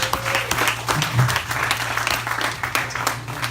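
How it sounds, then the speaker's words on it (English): Audience applause at a live concert venue, steady dense clapping throughout with a low hum underneath and some voices mixed in. "Please give them a big round of applause."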